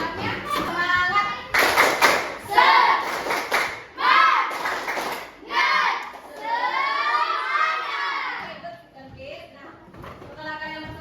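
A classroom of seventh-grade children performs a rhythmic spirit clap chant. Sharp unison claps fall in quick patterned bursts between loud shouted chanting voices, all close and lively, with a teacher's voice mixed in.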